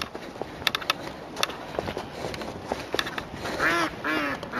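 Outdoor ducks quack several times in short nasal bursts, the loudest calls coming near the end, amid faint scattered background sounds.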